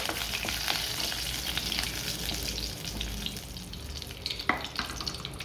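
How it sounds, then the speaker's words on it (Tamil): Curry leaves sizzle and crackle in hot oil for a Tamil spicy puffed-rice snack, a steady broadband frying hiss with small pops and one sharper crackle near the end, close and continuous, no talking. "இந்த கருவேப்பிலையும் எண்ணெயில் வந்து நல்லா பொரியட்டும்."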